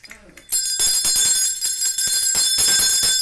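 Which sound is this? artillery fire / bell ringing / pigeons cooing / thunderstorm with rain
bell ringing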